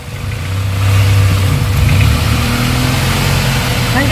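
A 1997 Honda Accord engine idles close by as it warms up, a loud, steady low rumble with a slight rise in revs early on, continuing evenly throughout without any voices.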